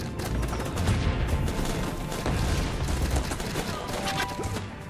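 Continuous battlefield gunfire in the strategy game Guns Up, a steady dense rattle of distant shots and impacts with no pause, heard alone at a fairly loud level.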